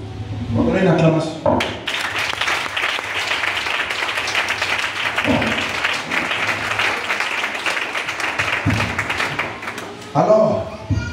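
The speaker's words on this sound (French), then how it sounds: "On va donner une acclamation" A church congregation bursts into sustained applause and cheering that fills the room for several seconds, with a preacher's voice speaking just before and after.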